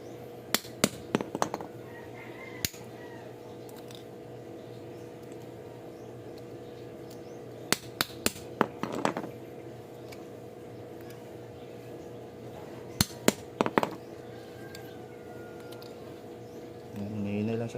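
A hammer taps a biofoam aquarium filter in sharp clusters of metallic clinks, a few quick strikes at a time with pauses between, over a low steady background hum.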